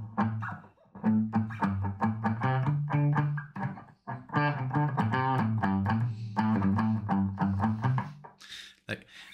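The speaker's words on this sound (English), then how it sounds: "I actually brought my trusty guitar. Let me just get all the reverb off" An electric guitar is played dry with all reverb turned off: a close, loud, distorted run of picked notes and chords in two phrases, separated by short pauses.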